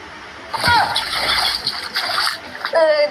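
Water splashes and sloshes as someone wades deeper into shallow water, in close bursts of splashing alongside people talking.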